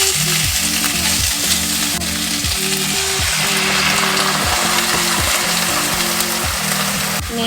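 Onion and beef sizzling in a hot pan, a dense continuous crackle with rhythmic scraping of stirring underneath, close and loud throughout.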